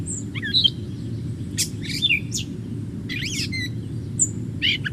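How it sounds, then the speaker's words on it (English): A mimid songbird sings alone, repeating borrowed notes of other birds in quick bursts of chirps, slurred whistles and buzzy trills, clear and fairly close against a steady low background hum. "it's a mimid, so that its true song is actually repeating notes from other birds"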